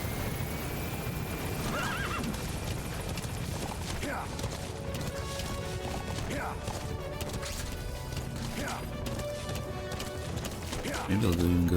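Horse in the video game Metal Gear Solid V, neighing several times in rising and falling whinnies over clattering hooves and steady background game noise, with people talking at times.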